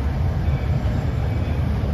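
A Walt Disney World Railroad steam train rumbles low and steady as it rolls into Frontierland Station, a continuous close mechanical drone with no voices over it.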